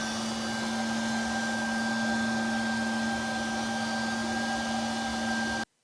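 A WeCreat Vision PRO 45W laser engraver runs with a loud, steady fan-like whoosh and a constant whining hum, unbroken until it cuts off abruptly at the end.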